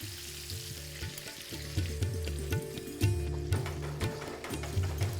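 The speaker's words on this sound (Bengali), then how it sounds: "আলুগুলোকে ভাজার সময় ফ্লেমটা আপনাদের একটু লোই রাখতে হবে" Potato pieces fry over a low flame in a pan for a Bengali-style pointed gourd and potato dish, a steady close sizzle with rhythmic scraping and stirring clicks throughout.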